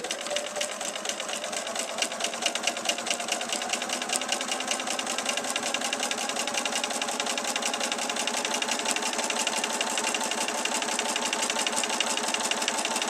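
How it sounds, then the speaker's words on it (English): A sewing machine stitches steadily at close range, its rapid needle clatter continuous and even with no pauses. "I'm just letting the sewing machine do the work, and I'm really just guiding it through"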